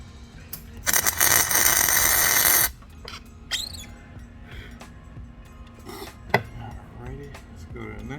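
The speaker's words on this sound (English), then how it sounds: "I'm just gonna put a little tack there with the welder, just so it won't come out" A welder puts a single tack on a Honda Element driveshaft: a loud, harsh crackling burst of about two seconds, then quieter scraping and handling noises of metal parts nearby.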